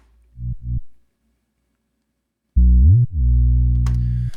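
A Serum synth bass: two short low notes, a pause, then a sustained bass tone that whips sharply up an octave before settling, with faint high noise near the end.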